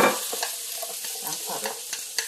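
Abalone and onions stir-fry in butter in a pan, a close sizzle broken by quick scraping and clicking stirs at irregular intervals.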